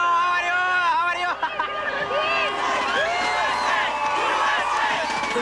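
Thousands of Kuwaitis crowd the streets of Kuwait City cheering troops as they enter, a dense, continuous roar of voices with whoops and shouts rising over the din, close and loud throughout.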